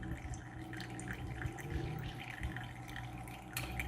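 Hot water from a pour-over coffee brew dripping through grounds, a faint close patter of small irregular drips and trickles, quiet and continuous.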